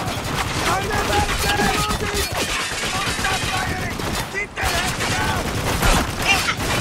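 Continuous gunfire from a Spec Ops: The Line firefight, dense rapid shots and bursts close by, with shouted voices over the shooting.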